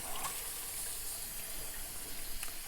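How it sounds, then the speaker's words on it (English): Hot water runs from a tap into a bucket with a steady, full gushing rush. The flow stays constant throughout and no one speaks. "what I'm going to do now is run some hot water"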